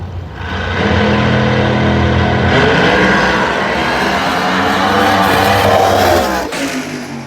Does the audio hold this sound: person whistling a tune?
no